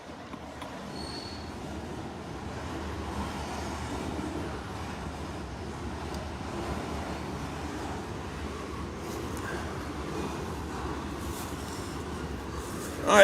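Paducah and Louisville Railway coal train rolling past near Calvert City, Kentucky, a steady loud rumble of wheels and cars with faint squeals, continuous throughout and swelling slightly at the end.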